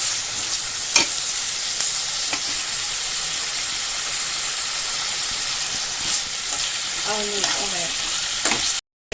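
Tomatoes dropped into frying onions in a pan for kadala curry: a loud, steady sizzle with occasional stirring scrapes and clinks, close up and with no talking.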